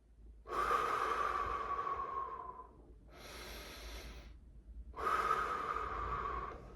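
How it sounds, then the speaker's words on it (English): Slow, deep belly breathing during a mindfulness exercise: two long, airy inhales or exhales separated by a quieter breath, each lasting around two seconds, close and clear with no talking. "we're going to do some belly breath awareness"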